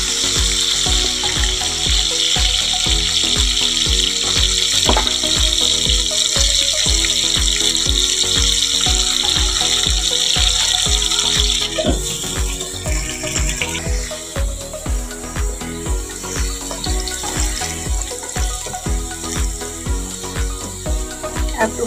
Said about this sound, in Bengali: দেখো আলু ভাজা তেল ছিল, ওতেই চিংড়ি মাছটা ভেজে নেব।